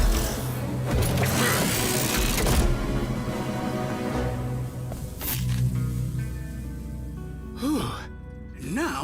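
A Rescue Bots cartoon robot powering up and transforming, with layered mechanical whirring, clanks and rising synthetic sweeps over a music bed, ending in short zapping chirps.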